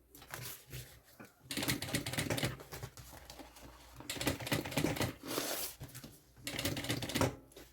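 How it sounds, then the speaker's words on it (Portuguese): Sewing machine stitching velcro onto fabric in bursts of rapid mechanical whirring, separated by short pauses, close and fairly loud. "Uma vez aqui na máquina, eu vou costurar esse velcro no lugar."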